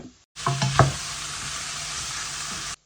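Onion fries in a pan for paneer biryani, a sudden loud burst of sizzle as it hits hot oil, with a few clinks of a utensil, then a steady hiss that cuts off.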